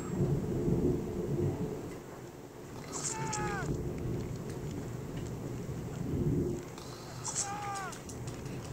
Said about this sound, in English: Giant lightning, bro.